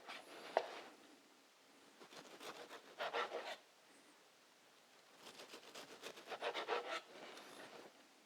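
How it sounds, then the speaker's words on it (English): A knife saws through the crusts of a katsu sandwich on a wooden board, giving quiet rasping strokes in a few separate bursts with short pauses between them. "We cut off the edges."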